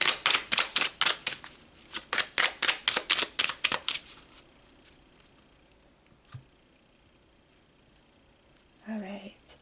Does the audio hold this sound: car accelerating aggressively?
no